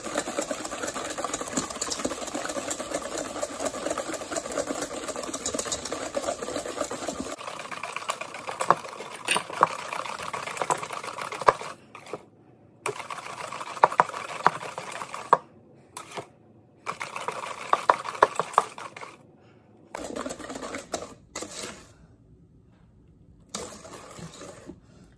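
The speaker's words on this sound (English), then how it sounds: "So now I just need to whisk this all ingredients together." Zucchini bread batter is whisked by hand in a bowl without a mixer, a rapid clicking, scraping patter that runs continuously at first and then comes in shorter bursts with gaps, close up.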